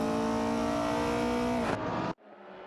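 Race cars in an AI racing video game accelerate with a loud, rising engine whine that holds steady before cutting abruptly to a quieter engine note, with no talking.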